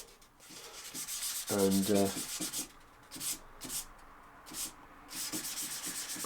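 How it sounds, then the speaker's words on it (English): Oiled 1200-grit sandpaper rubbing a walnut knife handle in repeated close, soft strokes, with a brief spoken word in between. "as I sand it will create a little bit of very fine dust which will go into those pores"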